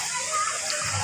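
Paglitaw Falls, a small waterfall, flowing with a steady broad rush of water that continues throughout the brief moment.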